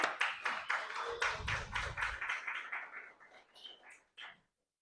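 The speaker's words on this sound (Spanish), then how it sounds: "Tenemos otro voto fuerte de aplausos para el hermano Daniel una vez más" Applause from a congregation at a Sunday church service in Barcarena, Portugal: a burst of many hands clapping close by, steady for a few seconds, then thinning to scattered claps and stopping.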